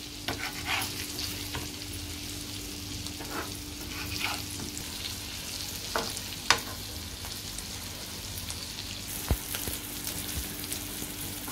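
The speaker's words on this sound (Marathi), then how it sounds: "दुसऱ्या साईडने आपण पलटून घेऊया." Thin semolina-coated jitada fish slices sizzle and fry steadily in a pan, with a few soft scrapes and clicks as the pieces are turned over.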